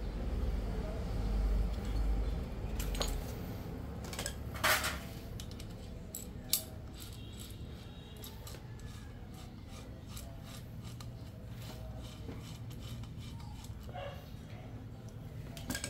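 Parts of an RCB S2 v2 single shifter being bolted onto a Sniper 150/155 motorcycle, with repeated metallic rasping and scraping of tools on metal, close and steady, plus a few sharp clicks.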